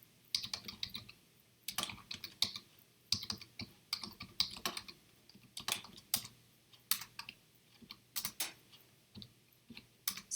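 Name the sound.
typing code on a computer keyboard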